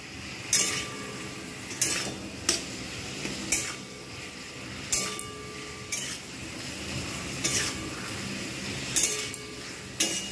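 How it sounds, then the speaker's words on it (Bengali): Rohu fish curry with potatoes and yardlong beans is sautéed in a pot, a metal spatula scraping and clinking against the pot in repeated strokes over a soft sizzle. "এবার আমি এটাকে ভালোভাবে কষবো।"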